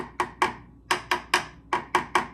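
Eight dull, rubbery knocks on Bondo body filler over the metal of a 1968 Mustang, arriving in uneven pairs and groups, close to the mic with short decays and no voices.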